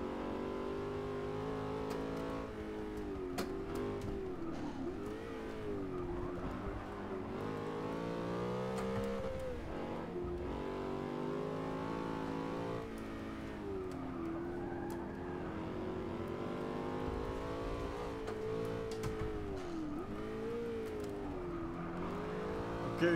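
Car engine driving in Forza 6, a racing video game, with a steady loud drone that rises and falls through repeated revs and gear changes. It plays continuously for about twenty seconds with no talk.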